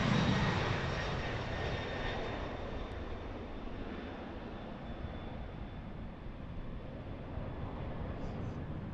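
A cargo airplane departs Harrisburg airport, its engine roar a loud, steady broadband rumble heard from a parking garage roof, gradually easing but sustained throughout.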